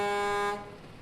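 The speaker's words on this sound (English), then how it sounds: "I can honk the horn from right in here." A truck horn sounds from inside the cab as one loud, steady honk with strong harmonics, about half a second long, then cut off, leaving only the faint hum of the cab.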